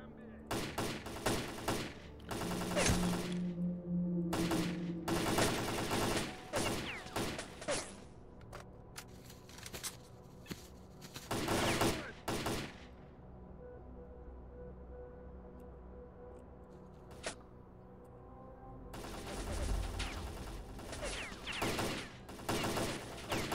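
Gunfire in S.T.A.L.K.E.R. Call of Pripyat comes in loud, close bursts of rapid shots, with short volleys separated by pauses and a long quiet stretch before a final flurry.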